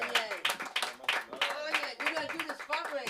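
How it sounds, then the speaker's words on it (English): Audience applause at a comedy open mic, a brief burst of many hands clapping unevenly, close and lively, with voices calling out underneath. "clap it on one time for Soon to come to the stage"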